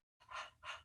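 A person pants in imitation of a dog, making two quick, close breathy huffs in a quiet room.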